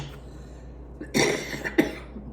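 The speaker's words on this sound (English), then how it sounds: "I hate coughing when you're on it." A person coughs twice in quick succession after a quiet pause, the first a harsh cluster of bursts and the second a single sharp hack, close and fairly loud.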